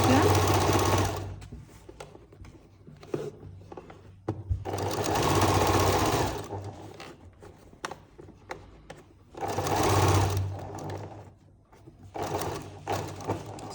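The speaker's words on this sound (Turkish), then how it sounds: "Kemer dikişimin kat izinin olduğu yerden dikişime başlıyorum." A sewing machine stitches a concealed zipper into a waistband, running in three distinct bursts of rapid mechanical whirring with pauses between them, close by, with someone speaking at times.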